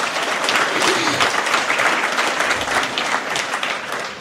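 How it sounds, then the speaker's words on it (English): Audience at a conservancy annual meeting giving park staff a round of applause, dense steady clapping that holds for several seconds and tapers slightly at the end. "let's give our Metro Park staff and Paul a big round of applause."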